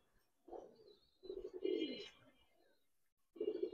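Silver pigeons coo softly nearby in a few low, throaty bursts separated by brief pauses, with faint chirps above.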